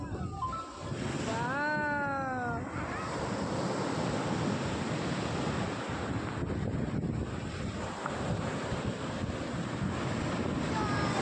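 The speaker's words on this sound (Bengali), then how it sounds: "ওই যে ঢেউ, ওই যে জল আসছে" Sea waves washing onto the shore, a steady broad roar of surf mixed with heavy wind buffeting, with a brief high voice early on.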